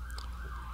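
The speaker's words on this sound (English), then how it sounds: "Sirens in the background" A steady siren wails in the distance, holding a sustained, slowly wavering tone for a brief moment.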